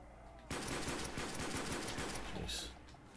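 Rapid automatic gunfire in the Call of Duty Zombies map Shi No Numa, a tight stream of shots that bursts in suddenly after a quiet start and runs steadily for about two seconds before easing off.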